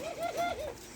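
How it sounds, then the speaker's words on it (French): A pair of Barbary doves, also called laughing doves, in an aviary give a soft rolling coo of four quick rising-falling pulses, close and clear with no voices. "Nous arrivons à un couple de tourterelles rieuses."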